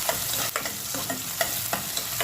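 Garlic sizzles and is stirred in a hot pan for pork feet paksiw, a steady frying hiss broken by several sharp utensil scrapes and clinks close by, with no talking.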